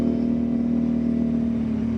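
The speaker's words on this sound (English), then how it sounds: "I love that sound. I hope that's coming through on the video." A custom Royal Enfield Interceptor 650 twin idles close by, a steady, even, low rumble heard alone.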